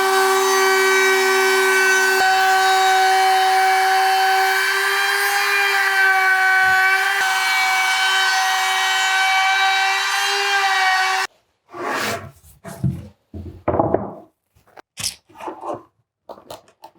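A router rounds over the edges of a wooden noodle board stove cover, a loud steady high-pitched whine for about eleven seconds that cuts off, followed by scraping and clattering bursts of workshop handling.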